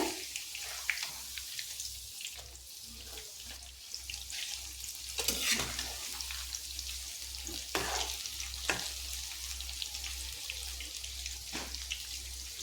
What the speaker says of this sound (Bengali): এবার যতক্ষণ না এটা লাল করে ভাজা হচ্ছে ততক্ষণ এটাকে ভেজে নেব